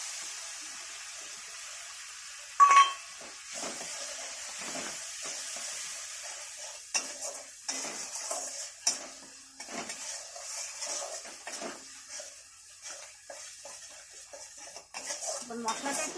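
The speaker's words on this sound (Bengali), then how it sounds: "এবার কাজু বাদাম বাটা দিয়ে দেবো, দিয়ে একটু জল দিলাম।" Cashew paste and a splash of water hitting frying spices in a pan, a quiet sizzle under repeated metal spoon scrapes and clinks against the pot, one sharp clang early, stirring continuing throughout.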